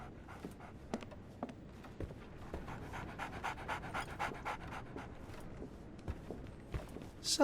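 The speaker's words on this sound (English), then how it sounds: "So, Barnes has a dog now." A dog pants steadily and rhythmically in Sherlock Holmes: The Awakened, with quick repeated breaths at moderate level and a few soft footstep-like taps underneath.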